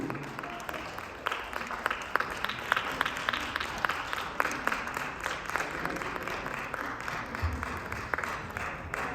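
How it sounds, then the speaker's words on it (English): Audience applause following a Choctaw social dance performance, moderately quiet and somewhat distant scattered clapping, with a few louder claps standing out against the background. "give yourself a round of applause"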